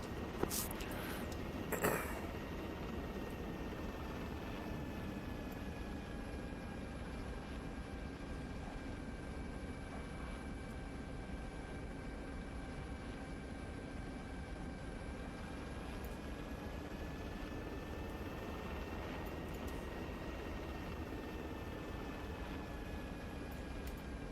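A steady, droning helicopter engine hum with a whirring tone holds at an even level throughout, with no talking; an allied helicopter approaching in the video game Arma 3.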